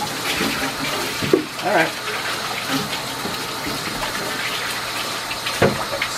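Warm water running from a tap to fill a glass tank that has not been leak tested, a steady close gush with splashes, and someone speaks briefly over it.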